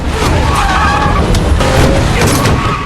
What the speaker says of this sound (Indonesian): John yang sedang berjalan tiba-tiba ditabrak oleh kedua mobil